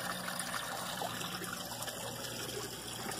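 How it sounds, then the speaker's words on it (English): Water trickles steadily from a small waterfall into a garden pond, a continuous close splashing babble with no talk. "Right here is what I call my pond. It's got a little waterfall feature."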